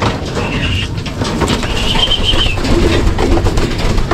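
Racing pigeons cooing and fluttering at a loft amid a steady, busy background rumble, with a few brief higher chirps rising over the noise.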